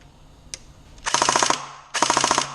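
Two short bursts of rapid fire from an electric airsoft AK-74 with blowback, rewired to 11 volts, each a fast mechanical rattle about half a second long, close and loud, with a faint click before.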